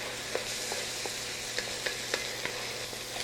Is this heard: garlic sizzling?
yes